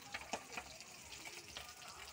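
Food fries quietly in a pan in a home kitchen, giving a soft, steady sizzle with a few faint clinks of stirring and no voices.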